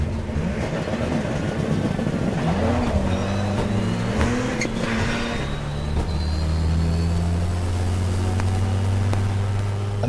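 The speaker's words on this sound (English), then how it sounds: "0 to 100 in less than 5 seconds when it's dry, with 6 gear changes gone, just like that" A 600bhp four-wheel-drive rallycross Citroen DS3 accelerates hard from a standstill, its engine note rising and dropping sharply with each quick gear change, loud and close, then settling into a steady high drone.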